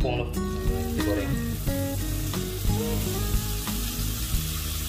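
Battered cempedak frying in hot oil sizzles steadily and loudly, with a few sharp crackles and pops over a constant hiss, while a voice talks over it.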